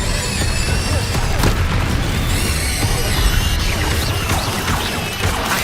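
Repeated Incendio fire spells cast in Hogwarts Legacy, loud bursts and whooshing crashes over a dense, busy game soundscape, with several sharp impacts spread through the clip.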